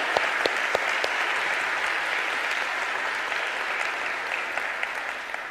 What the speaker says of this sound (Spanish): Un fuerte aplauso a esta palabra.